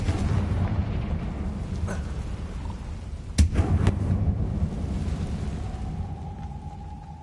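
A Confringo spell explodes in the Hogwarts Legacy video game: a sudden fiery blast with a sharp crack and short rumble, set against continuous dense game ambience and a faint tonal sound near the end.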